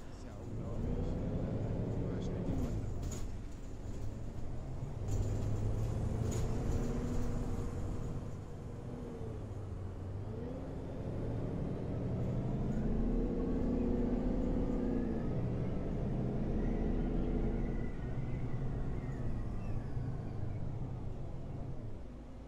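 A bus engine drones steadily in OMSI 2, a low rumble that swells and eases as the vehicle drives along, with a few brief knocks and clatters over it.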